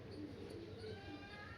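A nervous pigeon gives soft, low cooing notes nearby against a murmuring indoor background, the calls brief and fairly faint.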